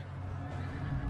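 A short, faint horse neigh within a documentary audio drama about the Anglo-Dutch naval wars, lasting just over a second with a low rumbling background.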